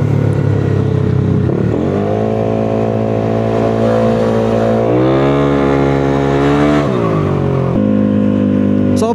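A motorcycle engine hums and shifts pitch as it revs and eases off, loud and close, while other motorbikes pass on a busy road.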